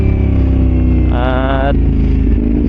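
A 450SR motorcycle with a quickshifter and 15-tooth engine sprocket revs loudly near 5,500 RPM and snaps up a gear without the clutch, the engine note dropping abruptly midway before pulling on steadily.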